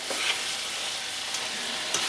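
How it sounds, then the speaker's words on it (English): Mushrooms and meatballs sizzle steadily frying in a hot pan, a continuous crackle with a few sharper pops, close and fairly loud, no talking. "start them in a separate frying pan or just add them in with what you're already cooking"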